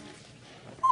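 A puppy gives a short high whimper near the end, brief and fairly close after a quiet stretch, with no talk over it.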